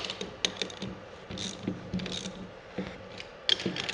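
A ratchet tightens a new nut on the bottom scissor of Timbersled ARO EXIT shocks, giving close, quick mechanical clicks in short bursts with brief pauses between them.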